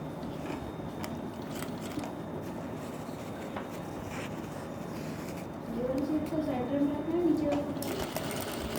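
A sewing machine runs steadily while stitching a blouse belt with a cloth laid underneath, a continuous mechanical whirr that grows slightly louder toward the end, with a voice talking over it.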